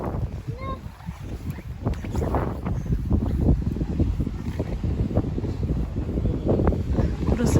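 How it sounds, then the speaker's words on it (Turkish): Steady outdoor wind buffeting the microphone on Burgazada island in Istanbul, continuous low rumble throughout with people talking faintly underneath. "birazcık esiyor."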